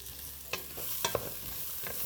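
Oyster mushrooms cooking in a pan with rice bran oil, a soft steady sizzle broken by a few sharp scrapes and clinks of stirring, close and fairly quiet, with no voices.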